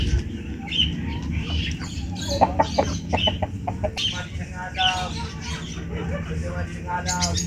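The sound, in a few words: chicken clucking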